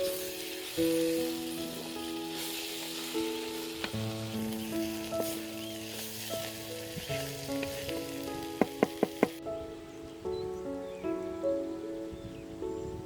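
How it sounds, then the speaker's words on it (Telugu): Green chili paste frying in a pan, with a loud, steady sizzle and occasional stirring, while music plays underneath and a few sharp taps come near the end. "ఇప్పుడు ఈ పచ్చిమిరకాయ ముద్ద పచ్చివాసన పోయేదాకా వేయించుకుందాం"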